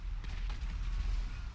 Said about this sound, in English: Three tanks blown up.